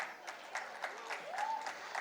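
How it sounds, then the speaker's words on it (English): An audience at a university convocation ceremony keeps up faint, sparse applause while a voice briefly speaks over it in the background. "keep the applause going"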